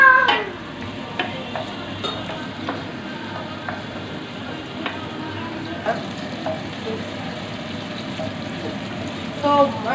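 Two garlic cloves frying in a pan until nearly brown, with a continuous soft sizzle and a few sharper clicks and pops, fairly close and moderate in level, without speech.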